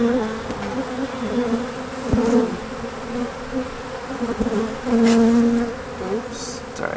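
Honeybees buzz around an open hive during a spring inspection, a steady close drone with a few louder swells as individual bees pass near.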